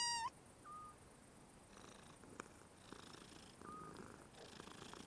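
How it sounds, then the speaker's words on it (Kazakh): A cat purrs faintly and continuously in a quiet room, with a short meow at the very start and a couple of soft chirping meows along the way. "Айша, қара қандай әдемі мысық."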